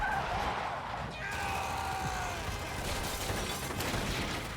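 Cartoon car braking hard in an animated 1920s-style chase, a long skidding tire squeal with a falling screech, loud and continuous over busy background noise.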